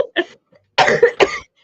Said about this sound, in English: I cannot shake this cough